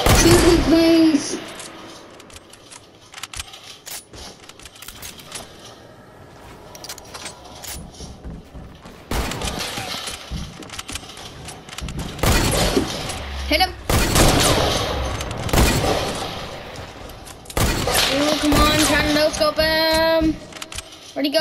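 Gunfire in Fortnite Battle Royale, with scattered shots and rapid bursts of varying loudness, plus clattering game effects. Excited voices talk over much of it.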